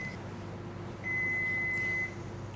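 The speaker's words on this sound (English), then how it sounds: "The microwave's telling you to hurry up, Dax." A microwave oven in a home kitchen gives a short beep, then a longer steady electronic tone lasting about a second, clear over quiet room ambience.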